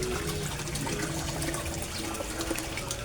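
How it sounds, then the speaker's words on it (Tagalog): A submersible pump runs in a koi fish tank, giving a steady, faint bubbling and gurgling water rush that continues without break. "ang ginagamit ko na submersible pump guys, ayan guys, oh, look at guys, oh"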